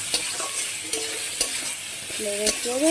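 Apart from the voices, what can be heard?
small fish added to a hot pan, sizzling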